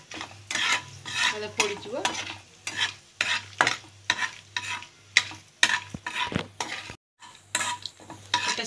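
Cauliflower and potato curry being stirred in a pan over a low gas flame, with repeated scraping strokes of a spatula against the metal and a soft sizzle, in a steady rhythm close by. A few words are spoken briefly.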